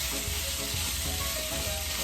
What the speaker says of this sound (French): je vais faire cuire ma viande avec mes poivrons